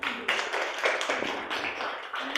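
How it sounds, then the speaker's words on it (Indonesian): Classroom applause from a group of students after a presentation, a steady patter of hand claps with a few sharper bursts, moderately close and continuous, without talk. "Oke, tepuk tangan untuk kita semuanya"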